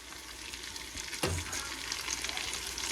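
Carrots, celery and onions sauté in a soup pot for lentil soup with a steady, soft sizzle, broken once by a brief clatter as the vegetables go in or are stirred, with no talking.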